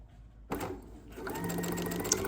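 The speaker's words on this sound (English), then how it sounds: "Sewing." Sewing machine chain stitching fabric pot holders, a short quiet start then a steady close whir of stitching.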